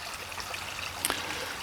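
Water trickles steadily along a tree-lined stream fed by a diverted trench, a faint, continuous babble with a brief brighter splash near the middle.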